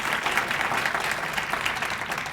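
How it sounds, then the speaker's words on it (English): A breakfast audience at a Women's Appreciation Day event gives a steady round of applause, dense and even clapping filling the room from start to finish. "If we could have a round of applause for Mary."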